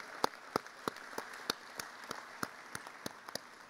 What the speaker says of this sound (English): give him that round of applause he deserves